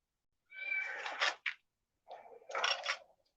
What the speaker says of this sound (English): do you hear my kitty? He's mad because I woke him up.